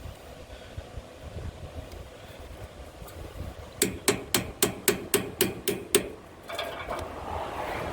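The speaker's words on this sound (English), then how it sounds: "Just a good old screwdriver and a hammer." About ten sharp, evenly spaced hammer blows on a screwdriver knock out an old axle seal, close and ringing against a quiet garage background, with a few softer taps after them.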